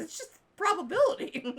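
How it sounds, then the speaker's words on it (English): A dog indoors whines and yelps in a few short, rising cries, partly under and between a person's nearby talking. "That was a dog who's like, I need to scream outside."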